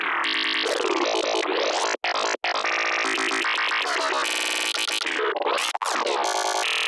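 Dense glitchy psytrance passage playing back in Bitwig, full of stuttering, chopped synth textures and rapid pitch sweeps with a few abrupt dropouts, loud and continuous and with no voices.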